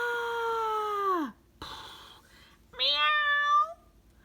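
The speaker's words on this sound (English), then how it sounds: "Meow." A cat meows in long drawn-out wails, two distinct calls separated by a pause with a faint shorter cry between, loud and close with no talking.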